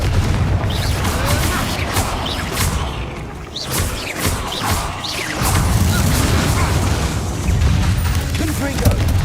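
Confringo fire spell blasts in the Hogwarts Legacy video game, loud booming explosions and crashing bursts with whooshes, repeated in close succession amid a busy game soundscape, with a voice speaking at times.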